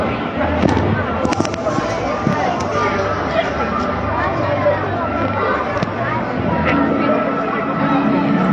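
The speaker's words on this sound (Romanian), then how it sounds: "Sunt artificii, nu?" Fireworks burst at the opening drone show of the FITS festival, repeated sharp pops and crackles at a distance over a chattering outdoor crowd, with people talking nearby.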